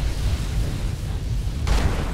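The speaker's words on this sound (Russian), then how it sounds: "Давай, взрывай." Barrels blowing up in the video game Enderal: a loud, rumbling blast that fills the clip, then a second burst swells near the end, with no voices.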